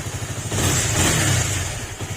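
A freshly repaired motorcycle engine idles with a steady low throb, then revs up briefly and settles back to idle, close and fairly loud with no talking.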